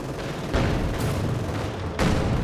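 Pak anti-tank gun firing in the Company of Heroes 2 strategy game, two loud booming shots about a second apart, each with a sharp crack and a long rumbling tail over constant battlefield noise.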